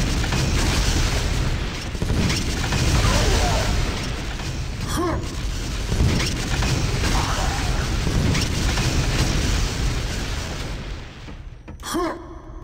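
Rapid weapon fire from a fast flak cannon in Quake 2 Remastered, a dense stream of booming shots and bursts, loud and continuous over game noise, with a couple of sharper pops near the end.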